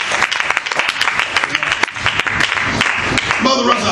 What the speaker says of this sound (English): Somebody clap their hands to give God some praise